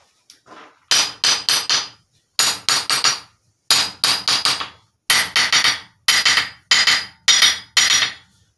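Hammer blows ringing on a 440 lb WjB anvil: groups of three or four sharp, bright metallic strikes in a steady working rhythm, close and loud, with no talking.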